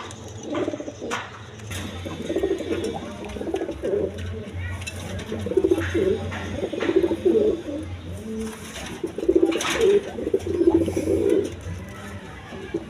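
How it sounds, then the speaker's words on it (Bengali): Pigeons coo steadily in repeated low, rolling phrases at a bustling pigeon sale offering birds with eggs and chicks, with faint crowd murmur and occasional high chirps behind them. "দেখেন একদম কোয়ালিটি সম্পন্ন কবুতর"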